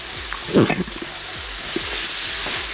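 Ginger and green chillies with garlic fry loudly in hot oil in a large restaurant-style pan for chicken kurma, a steady sizzle with a few scraping stir strokes near the start.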